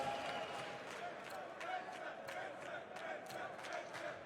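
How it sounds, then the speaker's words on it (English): Esports fans cheering in the arena during a CS:GO Major semifinal between Astralis and NRG in Berlin, a steady crowd roar with scattered claps and shouts running under a caster's talk throughout. "And fans still cheering here in the semifinals."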